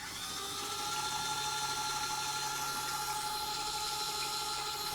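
An electric brush-cleaning gadget spins brushes against a rotor in water, making a steady, loud motorized whir that runs unbroken throughout with no talking.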